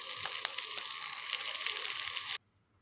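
Sliced green chilies frying in a pan before okra goes in, a bright steady sizzle with a few faint clinks, cutting off abruptly into near silence toward the end.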